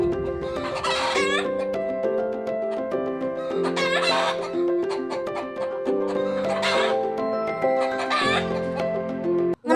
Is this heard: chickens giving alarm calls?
yes